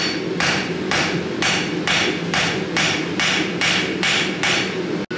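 A blacksmith hammers metal on an anvil, about ten evenly spaced, ringing strikes in a steady rhythm, close and loud over a constant background roar.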